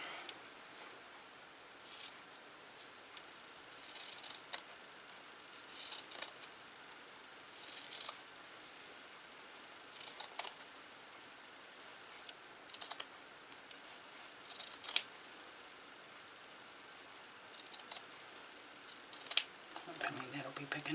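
Scissors snip through fabric to cut out a circle for a slow-stitched embroidered tray cloth, giving quiet, close, intermittent cuts at irregular intervals against a hushed room.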